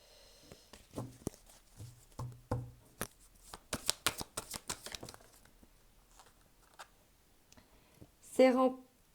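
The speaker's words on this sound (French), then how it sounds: "Je vais remonter les cartes, chaque fois je les descends un peu plus." A deck of cards is shuffled and handled close by, with a string of crisp riffling snaps and flicks in short bursts, followed by a brief spoken moment at the end.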